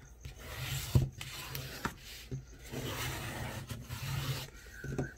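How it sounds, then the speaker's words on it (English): A folded card base gets burnished along its crease, producing quiet close rubbing and scraping strokes with a few soft knocks. "give it a good burnish."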